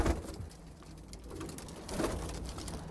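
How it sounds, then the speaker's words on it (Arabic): Pigeons coo softly near a nest where three young squabs have just left, low murmuring calls rising twice over a quiet background, with no talk. "هنا برضو في المكان ده كان هنا 3 زغاليل بسم الله ما شاء الله خرجوا من العش"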